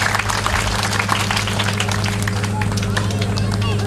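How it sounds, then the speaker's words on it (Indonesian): An audience at an Ambon stage performance of revitalised Totobuang music claps for the director in dense, continuous applause. The clapping is loud and steady under a general crowd murmur. "Beri tepuk tangan sekali lagi bagi Ibu Direktur."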